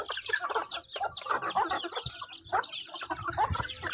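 A flock of chickens clucks steadily and busily while pecking at scattered feed, with overlapping close clucks and calls filling the whole stretch.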